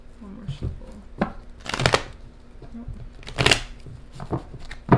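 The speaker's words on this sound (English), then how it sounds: "One more shuffle." Tarot cards are shuffled up close in two quick riffling bursts, with soft taps and handling noises between them and no talking.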